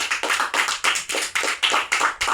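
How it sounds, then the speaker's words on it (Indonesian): A classroom applauds a student discussion group, producing steady, fairly loud clapping with a quick regular pulse that continues throughout. "Berikan aplaus untuk kelompok 2."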